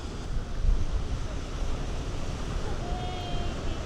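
Ocean surf at Sunset Cliffs, San Diego, gives a continuous broad wash of waves mixed with wind buffeting the microphone, steady and moderately loud with a slight swell near the start, and no one talking.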